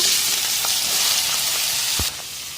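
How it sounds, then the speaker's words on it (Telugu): Pieces of bitter gourd fry in hot peanut oil, a loud, dense, continuous sizzle that eases slightly near the end, with one faint tap of a utensil and no speech. "మంచిగా మరిగిన నూనెలో కాకరకాయ ముక్కలు వేసుకున్నాను"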